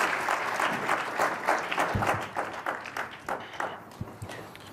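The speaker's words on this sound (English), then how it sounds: "I think you also heard a warm applause" Warm audience applause after a speech at a Davos forum, dense clapping from a large hall that swells and then thins and fades toward the end.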